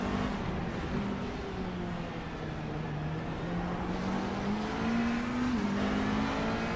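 A McLaren GT3 race car engine at Silverstone drones steadily with a rising and falling pitch, heard from the onboard camera over continuous road and wind noise, with no talk.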